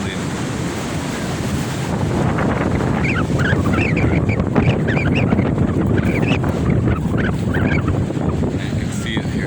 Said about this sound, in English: Wind starts to change directions a little bit.